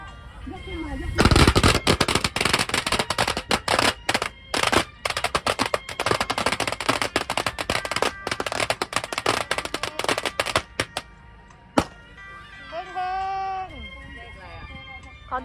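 Strings of firecrackers crackle loudly at a Qingming tomb-sweeping ceremony, a long dense burst of rapid bangs lasting about eleven seconds, then a single late pop, with people talking throughout and afterward.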